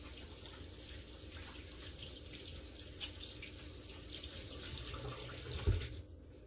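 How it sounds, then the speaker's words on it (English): Tap water running into a sink during handwashing in a home kitchen, a steady soft hiss and splash with some irregular splatter, closing with a brief thump as the flow stops. "I got to wash my hands real quick."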